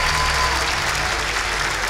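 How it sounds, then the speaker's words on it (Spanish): An audience applauds after the opening rap battle of a freestyle competition final, with steady, dense clapping filling the whole short stretch at close range along with some crowd noise. "Un fuerte aplauso para esta primera batalla, por favor."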